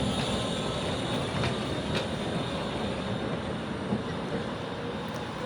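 Old decorated tram cars roll past on a Bratislava street, a continuous rumbling clatter of wheels on rails with a few light metallic clicks, close and steady throughout.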